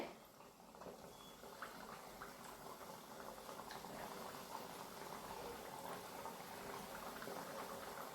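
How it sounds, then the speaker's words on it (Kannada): Badusha sweets deep-frying in hot oil, a dense, steady bubbling sizzle that carries on evenly throughout at a fairly low level. "ಇದನ್ನು ಎಣ್ಣೆಲಿ ಕರಿಯೋಣ. ಇದನ್ನು ಎಣ್ಣೆಲಿ ಹಾಕೋಣ. ಎಣ್ಣೆ ಕಾದಿದೆ."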